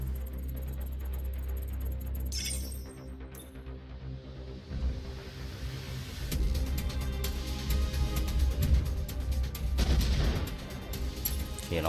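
Gunfire from a robot mech in the video game M.A.S.S Builder crackles in rapid bursts over a low rumbling engine drone, growing denser and louder in the second half.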